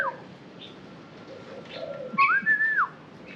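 A caged bird in a shop aisle in Laos gives a single clear whistling call, a rising then sustained tone lasting under a second, standing out above steady background hum.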